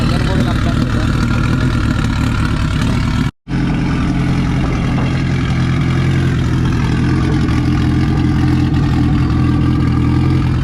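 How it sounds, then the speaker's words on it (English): A Honda Civic with an H22 engine idles with a misfire during a wiring harness install, a steady, loud, close rumble that runs throughout apart from one brief cutout. "So as you can see, it does have a misfire."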